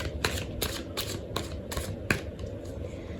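A tarot card deck is shuffled close up in a steady run of about six quick, papery riffling bursts, with no voices.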